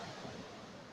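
Ocean surf at Lagundi beach in South Nias, a steady wash of breaking waves with wind rushing over the microphone, fairly faint and continuous throughout.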